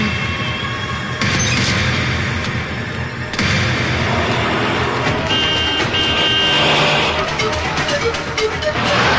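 A lorry engine runs loud and close in a Malayalam film scene about an arms-smuggling lorry. The heavy broadband rumble continues throughout, broken by a few abrupt booming thuds.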